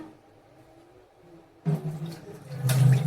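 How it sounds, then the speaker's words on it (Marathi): Quiet room, then a sudden splash and swishing of water, growing louder as sago is rinsed and sloshed close by. "शाबू असताना स्वच्छ पाण्याने धुवून घ्यायचा नंतरच भिजत घालायचा"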